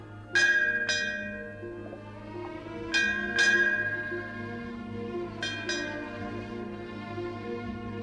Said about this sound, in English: Sound that fog bell.